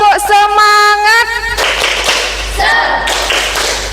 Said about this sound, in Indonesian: coba Ibu ingin dengar tepuk semangat dari kalian